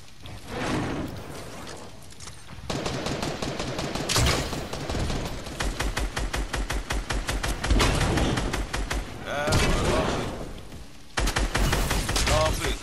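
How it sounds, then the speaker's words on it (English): Gunfire in the Fortnite video game: rapid bursts of close, loud shots in fast repeating volleys, broken by brief pauses and whooshes, with some speech mixed in. "I'm getting shot from behind."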